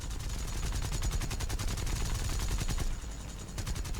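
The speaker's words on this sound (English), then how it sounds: "the Japanese cannons do their job. A couple of 20 mils and some smaller caliber machine guns" Japanese A6M5 Zero fighter firing its 20 mm cannons and smaller machine guns in the War Thunder air combat game, a dense rapid stream of shots that briefly pauses and then resumes.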